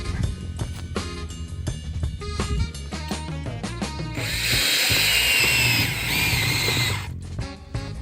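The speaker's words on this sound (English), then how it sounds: "You don't hammer them into the ground, they screw. Allow me to demonstrate." Clanking and ratcheting metal noises give way to a power tool whirring steadily for a few seconds as a screw-in ground stake is driven into the ground, then stopping.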